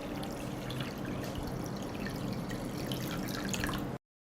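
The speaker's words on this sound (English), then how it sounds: "I pour water into the pot up to the height of the lid." Water pours steadily into a pot holding glass jars of blueberries set on a cloth, a continuous close rushing trickle that stops abruptly.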